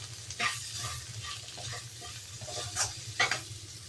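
Ivy gourd with chili powder is stirred in a pan: a soft simmering sizzle with several brisk spatula scrapes and clinks, all close and moderately quiet under a low-pitched musical backing.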